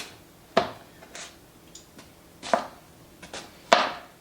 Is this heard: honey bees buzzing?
no